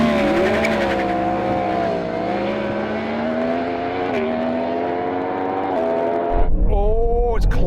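A Yamaha R1 superbike races a Porsche Taycan Turbo GT and a Ferrari SF90 in a drag race: a loud, close engine howl rises through the gears with steady pitch climbs, then a sharp burst of noise near the end.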